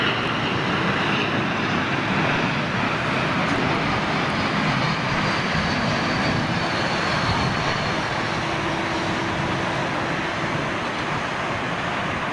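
An Emirates jet taxis at London Heathrow, its engines making a loud continuous roar and hiss that stays steady throughout with a faint tonal whine.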